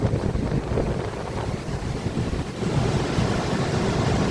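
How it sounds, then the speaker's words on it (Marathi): Rough, churning sea surging onto a beach at Devgad, a continuous loud wash of breaking waves mixed with gusting wind buffeting the microphone. "समुद्र बघा किती खवळलंय."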